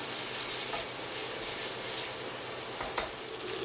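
Bacon sizzling in a dry pan in its own rendered fat, a loud, dense, continuous hiss close up, with a couple of faint scrapes as the strips are pushed around.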